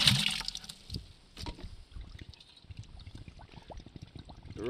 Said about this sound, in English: I'm going to fill up the bucket with water first